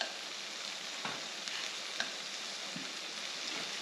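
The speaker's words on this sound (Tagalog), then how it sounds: "Ihaw lang natin siyang ganito." Leftover food sizzles on a grill in a steady, close hiss, with a few soft ticks and pops and no talking.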